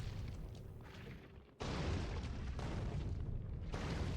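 Artillery shells exploding in the factory-building game Factorio, a run of deep booming blasts with a sharp loud onset partway through and continuous rumbling impacts after.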